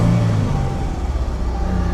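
A car engine idles and revs steadily just after starting, a low continuous rumble with a slight swell, heard close with no talk.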